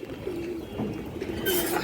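Female Chapchira pigeons coo close by in a low, steady, continuous murmur that pulses gently throughout, with a brief brighter rustle near the end.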